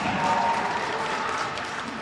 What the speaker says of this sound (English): Big applause there from the Monarchs bench.